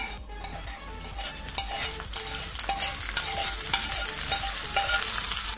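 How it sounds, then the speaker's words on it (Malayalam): Chopped shallots and curry leaves fry in a pan for beetroot pachadi, with a bright, crackling sizzle and repeated utensil scrapes and clinks against the pan, close and steady. "ചെറിയുള്ളി അരിഞ്ഞിട്ട് കൊടുക്കാം അതുകൊണ്ട് കറിവേപ്പില ഇട്ട് കൊടുക്കാം"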